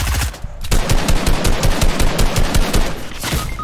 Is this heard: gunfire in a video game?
yes